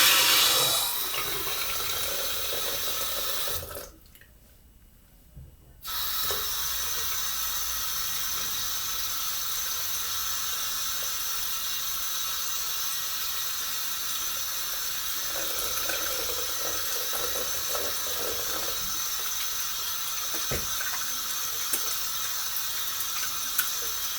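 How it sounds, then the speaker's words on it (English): Tap water runs steadily into a sink while a shaving tub is rinsed out, with a short pause before the flow resumes and continues to the end. "All right, let's rinse out the tub."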